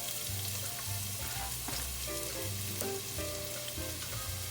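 A whole onion fries in about a tablespoon of oil in a skillet, giving a steady close sizzle with crackles and light stirring scrapes throughout, no voices.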